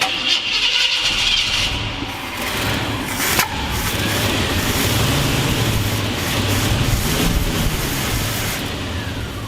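A Ford F250 truck engine with a carburetor fires up on the accelerator pump and keeps running loud and close for several seconds. Its rough, steady rumble has one sharp click partway through.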